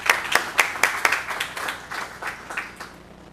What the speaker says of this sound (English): if we can give Dave a round of applause as he comes back up to the stage